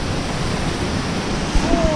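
Waterfall along the Road to Hana on Maui, a steady broadband rush of falling water filling the scene at close range, with a brief low thump near the end.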